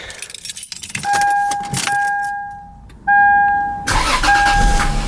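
A car engine cranks and catches while keys jangle close by, with a brief whine and the idle settling in, a second start-up surge near the end, and no talking.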